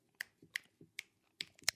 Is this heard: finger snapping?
yes